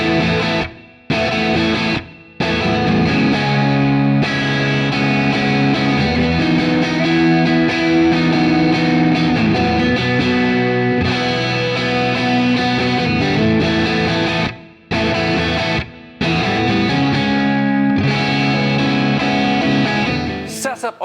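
Heavily distorted electric guitar, a Fender 2025 Standard Stratocaster with high gain, plays loud, sustained chords and riffs, with a few brief pauses where the sound cuts out between phrases.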